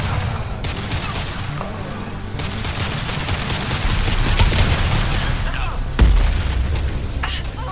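Dense fusillade of gunfire in the video game Mass Effect 2, continuous loud bursts and booms building toward a heavy blast near the end, with battle shouts mixed in.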